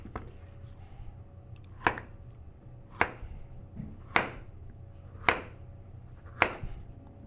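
A knife chops through a squash on a cutting board in six sharp, evenly spaced strikes about a second apart, close and clear over quiet room tone.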